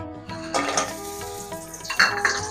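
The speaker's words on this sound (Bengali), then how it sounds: "লাল লাল করে ভেজে নিচ্ছি দেখুন বড়িটা লাল লাল হয়ে আসছে" Pumpkin lentil dumplings (bori) frying in oil until reddish-brown, a soft crackle running under pot and utensil clatter, with a couple of sharper metallic knocks near the end.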